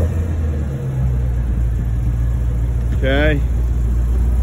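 A 2020 Ford Mustang GT350 with its exhaust baffles closed rumbles steadily at close range, a low idling drone running throughout with a brief spoken word over it.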